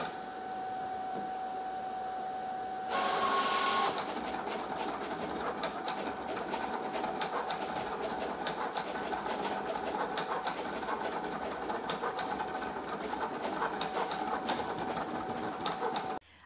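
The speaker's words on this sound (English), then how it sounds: "And now the Cricut is going to go ahead and cut this out." A Cricut Venture cutting machine cuts metallic puff heat-transfer vinyl. It makes a steady, moderately quiet mechanical whir dotted with rapid ticking clicks, with a brief louder burst near the start, and runs alone throughout.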